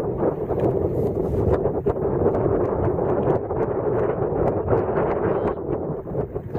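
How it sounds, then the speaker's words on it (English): Strong wind roars steadily into the microphone outdoors while flying a kiteboard trainer kite, a constant loud buffeting rush with gusty fluctuations throughout. "Good wind now."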